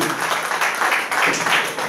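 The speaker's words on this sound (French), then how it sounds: "je vais applaudir très fort pour ces discussions" Audience at a lecture applauding, a dense, fairly loud burst of many hands clapping throughout, close and continuous with no voices over it.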